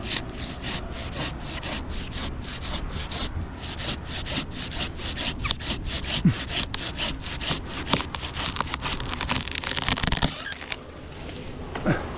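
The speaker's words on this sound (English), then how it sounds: "I'm cutting with my handsaw." A handsaw cuts through wood in steady rhythmic back-and-forth strokes, loud and close, for the whole stretch, with a short pause near the end before the sawing resumes.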